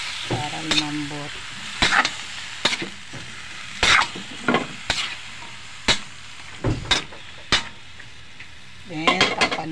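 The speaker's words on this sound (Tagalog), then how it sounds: "Ilagay na natin yung gulay lahat. Masamahin na natin" Vegetables frying in a pan under a soft sizzle, with repeated sharp clacks and scrapes of a utensil stirring against the pan at irregular intervals.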